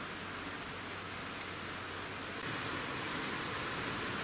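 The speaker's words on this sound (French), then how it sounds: "La pluie commence à tomber." Rain falls steadily in Le Havre, a soft, even patter on surfaces close by that grows slightly louder partway through, with no voices.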